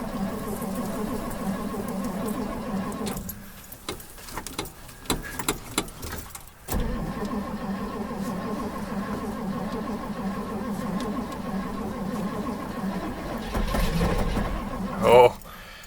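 A 1958 Edsel Ranger engine cranks with a rapid, rhythmic churning for a few seconds without catching, surrounded by low background rumble.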